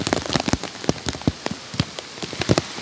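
Heavy typhoon rain during Typhoon Aghon patters densely on a nearby surface, with irregular close drips and splashes standing out over a constant wash.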